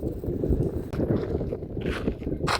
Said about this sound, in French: je coupe, il y a du vent